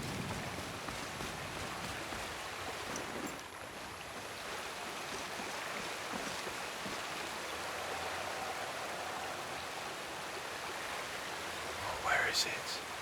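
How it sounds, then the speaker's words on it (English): A waterfall in modded Skyrim rushes as a steady, close hiss of falling water that fills the whole stretch, with a brief brighter sound rising near the end. "Get away from this waterfall so I can actually hear"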